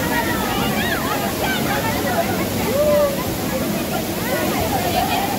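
A large waterfall roars as a steady, dense wash of rushing water throughout, with people's voices faintly mixed in.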